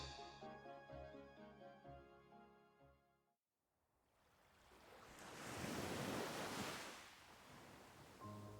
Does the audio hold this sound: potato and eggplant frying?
no